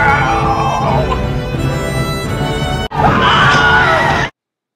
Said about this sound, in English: Was that a Wilhelm scream?